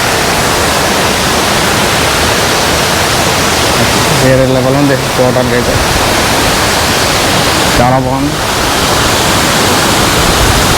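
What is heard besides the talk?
Kothapalli waterfall rushing water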